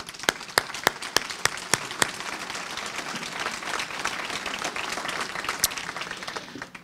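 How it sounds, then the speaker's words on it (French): An audience at a Collège Boréal graduation in Timmins applauds the graduates, opening with a few sharp, regular claps near the front before swelling into a steady wash of crowd clapping. "j'invite l'auditoire à les applaudir."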